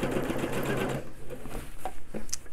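A sewing machine stitches surgical gown fabric in a steady, close whir that runs loud for the first second, then drops to a quieter, broken hum with a few light clicks.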